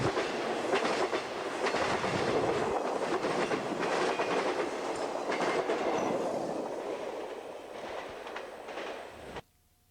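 A Union Pacific double-stack container freight train rolls past beside the Mississippi River, a loud, continuous roar with rhythmic wheel clatter that fades slightly before cutting off abruptly.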